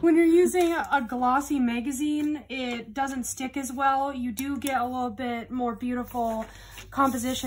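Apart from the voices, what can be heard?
No everyday noise stands out behind the speech.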